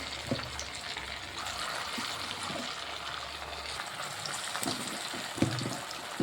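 Fulori batter frying in well-heated oil for a Mohini Ekadashi recipe, a steady broadband sizzle and bubbling that runs throughout with a few sharper crackles, no voices.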